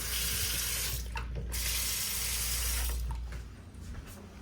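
A bathroom sink faucet in a hotel room runs a strong, steady stream of water into the basin, close and loud, then the flow eases off near the end; no one speaks.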